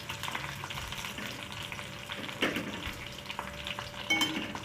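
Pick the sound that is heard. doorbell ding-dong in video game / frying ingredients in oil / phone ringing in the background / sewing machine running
frying ingredients in oil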